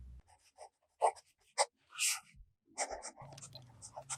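Fountain pen with a fine nib writing on a National Steno notebook, filled with Noodler's Dallas Texas Navy ink: close, scratchy bursts of strokes separated by short pauses, with faint background sounds.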